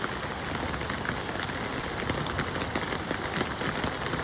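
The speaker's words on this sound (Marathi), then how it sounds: "बारीक पाऊस आलेला आहे" Light rain falling steadily outdoors on flooded streets, a dense even patter of drops on surfaces throughout, with no one speaking.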